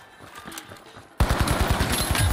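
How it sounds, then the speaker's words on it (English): SMG gunfire in The Finals, a burst of rapid automatic shots that starts quieter and distant, then jumps sharply louder and closer, with a steady fast rhythm of cracks continuing to the end. "behind me was somebody shredding me with an SMG"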